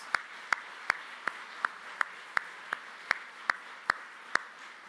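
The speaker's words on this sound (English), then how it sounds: "Let's give those guys a round of applause." Sharp, evenly spaced claps ring out one at a time in a steady rhythm at a political rally, fairly faint, like a single pair of hands slowly applauding.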